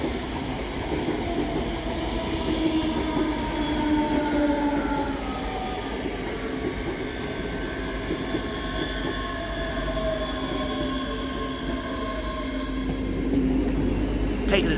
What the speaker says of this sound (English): coming in the opposite direction is 385118 and 385123 with the 1858 Scotrail service from Glasgow Queen Street to Edinburgh